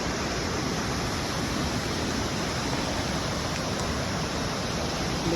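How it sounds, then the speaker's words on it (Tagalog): Small waterfall at Franklin Fall on a hike, a steady, unbroken rush of falling water that stays even and fairly close throughout, with no voices. "Little falls in there."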